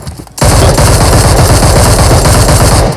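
Loud, dense automatic gunfire from a mobile shooter video game, a sustained burst that starts abruptly after a brief quiet moment and hammers on without a pause.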